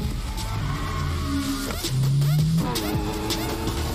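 A Lamborghini in the video game The Day Before revs and shifts, its engine tone rising and falling steadily at moderate loudness, with game sounds layered over it.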